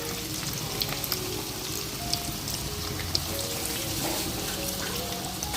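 Chicken pieces fry in a pan over a fire, sending up a loud, dense, steady crackling sizzle with occasional sharp pops, and no one speaks.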